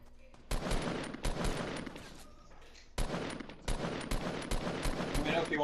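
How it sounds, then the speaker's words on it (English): Fortnite gunfire in a duos match, with sharp loud shots and short bursts cracking close by at irregular intervals over a steady background din. "Oh, they're shooting at me."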